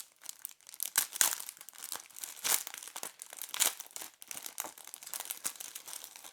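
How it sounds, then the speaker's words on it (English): Paper packet flap of a StepAhead face mask being peeled open, close, soft crinkling and tearing with irregular crackles, quiet and continuous, with no voices. "peeling apart the flap that's keeping the packet closed"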